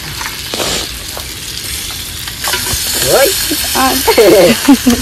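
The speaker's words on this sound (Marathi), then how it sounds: "आता टाकूया मच्छी" Fish is fried in a pan in a village kitchen, with a loud close sizzle and stirring that continue throughout while several people talk over it in the second half.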